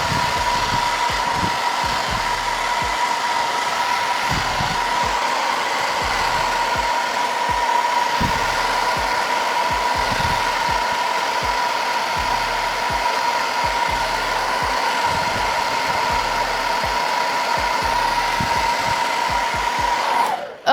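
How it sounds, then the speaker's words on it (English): A hair dryer blows steadily on hair for about twenty seconds, a loud, continuous whooshing hum with a constant motor whine that cuts off abruptly at the end, with no talking. "Let me blow dry this."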